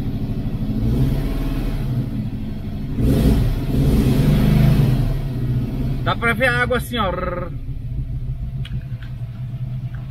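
Maverick V8 car engines idling with a deep, steady rumble that swells louder for a few seconds, while someone talks nearby.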